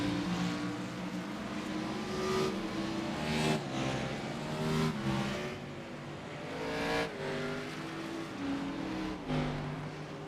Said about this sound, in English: let's hear those engines roar off pit road